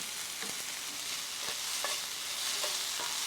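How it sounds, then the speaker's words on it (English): Chopped fresh spinach stirred into a sizzling Florentine sauce in a pan, a steady soft frying hiss with scattered light scrapes and clicks of stirring. "Now we add chopped fresh spinach."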